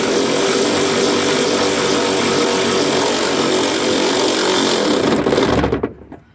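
A power tool runs steadily on a 1995 Chevrolet pickup truck radiator, a loud continuous buzzing whine that holds for several seconds before cutting off abruptly near the end.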